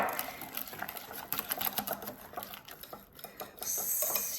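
A high-protein dessert mixture is whisked in a bowl, giving a rapid, steady clatter of a whisk against the bowl, close and fairly quiet.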